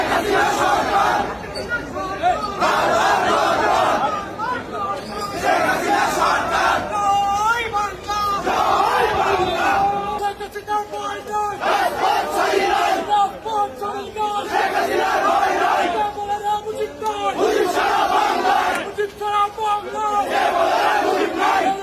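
Crowd chanting slogans in support of Hasina at a court in Bangladesh: a loud mass of voices shouting in rhythmic bursts, repeated steadily over about twenty seconds amid crowd hubbub.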